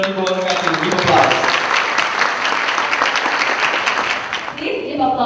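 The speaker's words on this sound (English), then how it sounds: "Give applause." A crowd applauds right after the ribbon cutting at a Spanish Latin cultural day event in Indonesia, dense sustained clapping that carries for several seconds before thinning out at the end.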